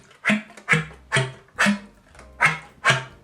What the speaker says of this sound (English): So poison darts, or as it's supposed to be called, ram tongue, sounds like this.